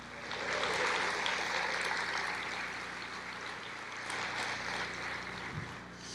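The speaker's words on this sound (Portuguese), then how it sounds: "Você pode aplaudir o Senhor?" A church congregation claps steadily in praise during a sermon, a broad, even wash of many hands held at moderate loudness for several seconds, slightly distant and without speech on top.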